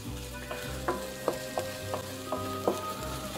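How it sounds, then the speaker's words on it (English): Rice sizzles in a hot pan, steady frying crackle broken by regular light scraping clicks of stirring, close and moderately quiet, no voices. "so we're going to put the rice in here now"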